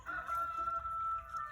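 A cockerel crows once in a sustained, clear call at moderate distance in a country setting, with no talk over it.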